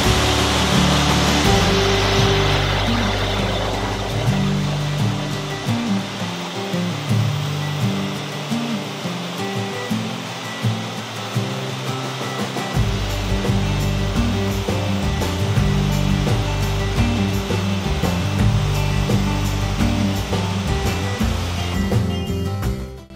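A Foaminator dual soap wash system runs its rinse barrel through the line, giving a loud, steady hiss of spraying water with a droning pump underneath that holds throughout.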